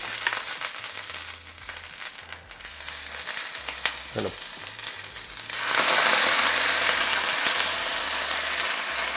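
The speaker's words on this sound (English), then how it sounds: "So now we're going to add in about half of our sauce." Spaghetti sauce is ladled into a hot pan for assassin's spaghetti and hits it with a sudden loud, sustained sizzle that swells to a steady hiss after some quieter stirring and scraping, with no voices.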